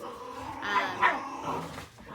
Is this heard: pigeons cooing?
no